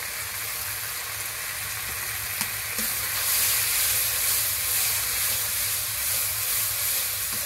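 Spice paste with turmeric, salt and red chili powder fries in hot oil, producing a loud, continuous close-up sizzle with one sharp click partway through.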